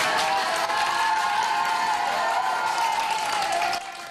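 Students and supporters outside Taipei District Court cheer and clap for a professor just acquitted at trial, a dense burst of applause and shouts that continues steadily before dropping off at the end.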